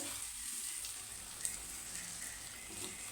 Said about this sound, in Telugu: ఎగ్గు మడుకు రెండు వైపులు మంచిగా వేగాలి